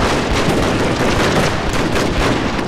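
In a video game, Gatling guns fire manually in a dense, continuous roar of overlapping shots and booms at high volume, with no talk.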